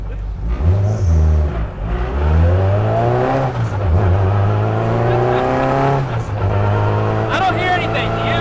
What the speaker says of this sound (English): The trans is just way too loud.